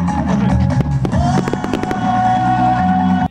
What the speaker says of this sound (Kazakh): фаер-шоу мен әсерлі отшашу ұйымдастырылды